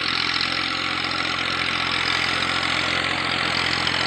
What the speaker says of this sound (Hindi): इस ट्रैक्टर को चलाने का मज़ा भी बहुत है।